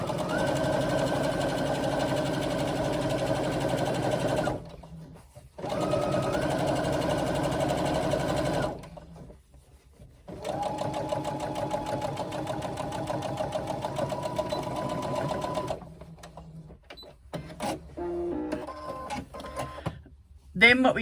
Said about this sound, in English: And this one we sew right across.